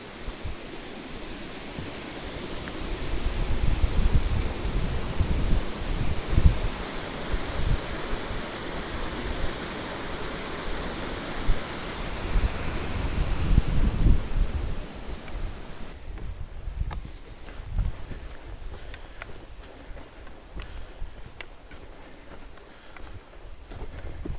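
Steady rushing roar of the Orgon waterfalls in the Tapoul gorges, broad and continuous, growing louder midway before turning thinner and rougher near the end.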